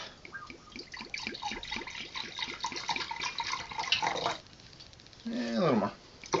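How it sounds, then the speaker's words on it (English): Apple juice glugs out of a glass bottle in rhythmic bursts, followed by a shorter liquid pour, close and clear while a person talks over it. "Then you pour out about a cup."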